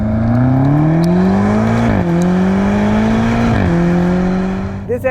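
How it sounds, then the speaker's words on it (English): A BMW M5 Competition engine revs hard inside the car, pitch climbing through gears with two sharp shifts and a crackle of bangs and pops as it comes off throttle near the end. "This engine is quite a bit louder than the one in the Audi, and it bangs and pops on the overrun"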